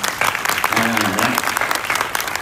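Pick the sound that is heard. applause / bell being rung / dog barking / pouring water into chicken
applause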